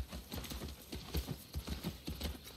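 A horse's hooves clip-clop in a quick, even rhythm as it is ridden in The Last of Us 2, close and moderately loud with no talking over it.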